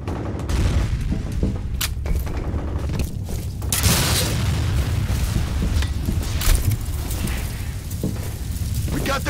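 Grenade blast in the online shooter FEAR Combat amid a busy firefight, with booming explosions and bursts of gunfire rolling over each other continuously, loud and close, while radio-style voice callouts play over the action.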